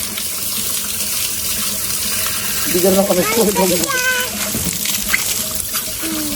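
Cold mountain water runs freely from a pump spout at a resort in Ambulong, a steady broadband rush throughout with people talking over it.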